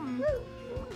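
A sled dog gives a brief whine that rises into a short yip, close by and moderately loud, over a low rumble of outdoor movement on a dog-sledding outing.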